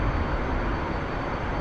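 A simulated F-15EX jet roars steadily at full power during takeoff in DCS, a broad, dense, unbroken engine rush with no talk.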